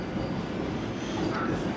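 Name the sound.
Vande Bharat Express train running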